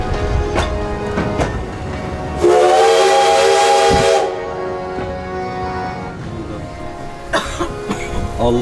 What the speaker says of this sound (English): We could only hear the train noise.